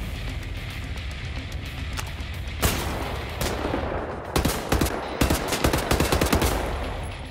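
Enemy shotgun fire in Wolfenstein The New Order, loud sharp blasts that start with one shot, then come in a rapid cluster over steady background noise, with no talk over them.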